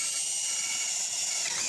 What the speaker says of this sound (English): I'm just going to take a 3/16 inch drill bit and drill 4 holes